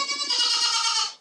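A single drawn-out goat bleat on a farm, close and loud, with a wavering nasal tone lasting about a second.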